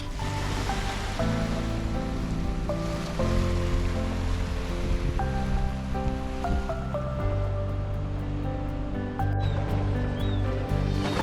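Gentle waves at East Manly Cove, a quiet harbour beach in Sydney, Australia: a soft, steady wash of water plays continuously beneath background music.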